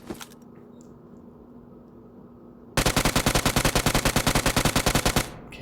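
UMP submachine gun fires a single sustained full-auto burst in PUBG Mobile, a fast even rattle of loud, close shots that starts abruptly after a quiet hum and stops just as suddenly.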